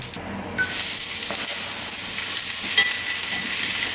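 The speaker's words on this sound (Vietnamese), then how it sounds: "Mình xào hành cho nó thơm lên rồi mình bỏ thịt vô mình xào luôn." Onions and then meat stir-fried in a pan, giving a loud, steady sizzle that continues throughout after a short muffled start, with no talking.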